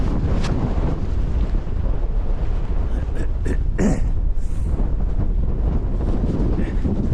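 Strong gusty wind buffets the microphone at a cold, wild camp on Crag Hill in the Lake District, a loud steady roar with sharp bursts, no voices.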